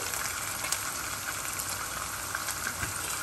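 Potatoes and chopped dried red chilies fry in hot oil with a soft, continuous sizzle and crackle, close but fairly quiet, with no talking.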